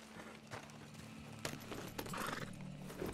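Horse hooves clopping in the Red Dead Redemption 2 game world, a steady patter over a busy, continuous mix of ambient noise with a few sharper knocks standing out.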